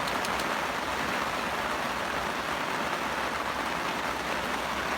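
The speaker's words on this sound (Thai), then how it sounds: "โอ้โหฝน" Steady rain falls over a reservoir during a fishing outing on a windy day, a continuous even hiss with no break, alone and moderately quiet.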